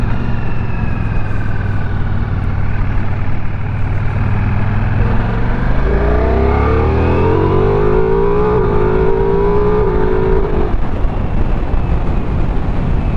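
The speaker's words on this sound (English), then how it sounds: "I do have it in sport mode at the minute, and this engine so far is very peppy" A Ducati Multistrada V4 Rally adventure motorcycle's V4 engine in sport mode accelerates hard, its loud, steady drone rising in pitch through the gears over constant wind and road noise, with no talking.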